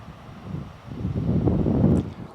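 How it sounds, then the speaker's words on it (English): Wind buffeting the microphone on an open hillside above Torside Reservoir on a hot sunny day, a low rumbling gust that swells and stays strong through the middle before easing off. "But other than that, it's just me and the wind."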